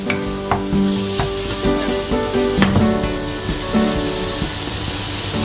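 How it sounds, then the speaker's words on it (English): Stewed chicken (three-cup chicken) sizzles steadily in a pan as it is shaken and stirred, with scattered metallic clanks and scrapes of utensil against pan over a continuous frying hiss, no voices. "Shake the pan for a while"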